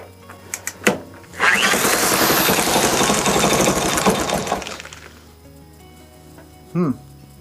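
A 1964 Honda CT200 motorcycle engine roars up in a rough, noisy burst lasting a few seconds before dropping away. Brief voices come before and after it.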